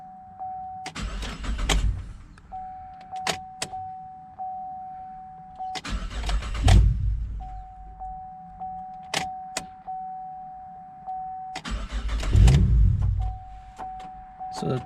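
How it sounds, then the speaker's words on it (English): A 2010-2015 Chevy Camaro is cranked three times, each start a short whirring crank that catches into a brief engine roar, then cuts off amid steady chime tones and clicks. "Let's start the car."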